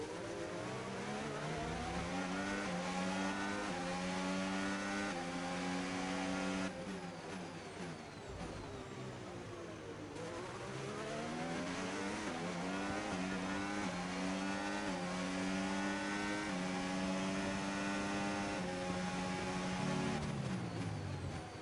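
A Formula 1 car in the F1 25 game drives continuously, its high engine note sweeping up through the gears and dropping on downshifts in repeated cycles, loud and alone.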